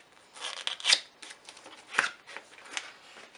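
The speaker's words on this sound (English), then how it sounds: "you get the scissors or your unboxing knife and cut this part off" Scissors or an unboxing knife cut through the packaging of a Bloody B120 gaming keyboard, giving a few close, crisp snips and rustling crinkles spaced irregularly, with no talking.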